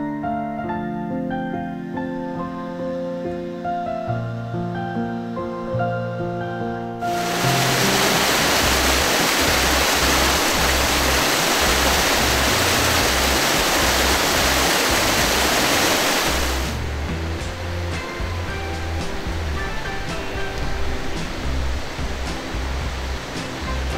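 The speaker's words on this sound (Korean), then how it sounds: "선방 옆에는 바로 시원한 계곡물이 내려가고 있고요." Cool mountain stream rushing beside a temple meditation hall at Yunpilam Hermitage in Mungyeong, a loud steady broadband roar that swells in the middle and continues alone without talk, following a stretch of layered tones.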